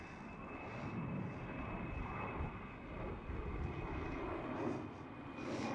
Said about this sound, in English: And there goes the next Embraer E190 of Air France.